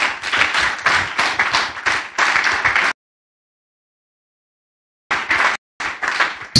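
Church congregation applauds in two loud bursts of rapid, dense hand-clapping separated by a sudden silent gap.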